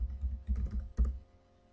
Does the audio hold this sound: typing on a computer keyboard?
yes